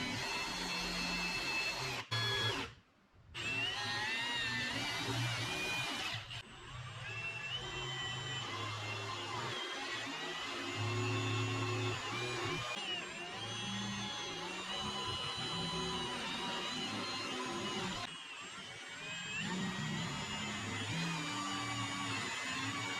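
A drill whines steadily for a long stretch, its pitch shifting as it bores, with a brief pause near the start and small dips later.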